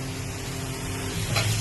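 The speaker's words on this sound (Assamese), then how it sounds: "লতিটো দি দিছো, কচুৰ লতিটো দি আৰু 3-4 মিনিট সময় মই ভাজি লম।" Taro stems frying in a pan with ground spices and dried prawn, a steady close-up sizzle that swells briefly near the end.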